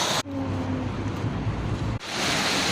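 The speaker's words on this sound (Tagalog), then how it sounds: "Papakita ko po sa inyo ang isa sa attraction dito sa Jurong Bird Waterfalls" A waterfall at Jurong Bird Park in Singapore roars as a loud, steady broadband rush of falling water, with brief breaks from handling the microphone.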